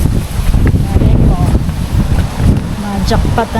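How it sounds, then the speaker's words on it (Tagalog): Strong, steady wind buffets the microphone with a low roar throughout, while a voice talks faintly beneath it. "Bakas ang hangin."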